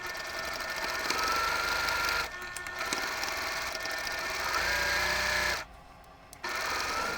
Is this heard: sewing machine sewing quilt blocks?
yes